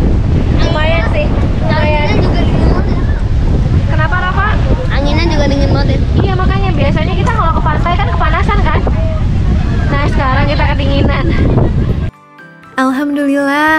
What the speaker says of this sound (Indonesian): Nah ini malah dingin, angin, dan hujan.